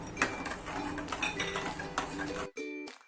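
A spoon stirs tamarind chutney with watermelon seeds in a metal pot, scraping and clinking against the sides in a busy, irregular stream up close before stopping abruptly near the end.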